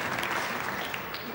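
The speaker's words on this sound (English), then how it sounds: "the Moose crowd have gone haywire again" Crowd roaring and applauding at the 2008 World Tenpin Masters bowling match, a dense, steady wash of cheering and clapping filling the hall without a break.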